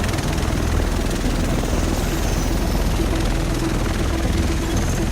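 A helicopter in The Division video game holds a steady, loud rotor drone throughout, a dense unbroken chop and engine roar with no break.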